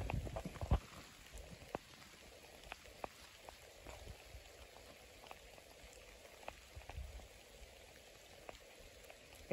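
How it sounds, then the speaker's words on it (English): Light rain falls steadily on surfaces outdoors on a windless day, a soft continuous patter with scattered louder drips nearby and no voices. "It's raining, but the wind's not blowing."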